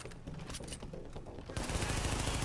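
Gunfire in Tom Clancy's The Division 2. A sparse run of softer shots gives way to a sudden dense, loud stream of rapid automatic fire.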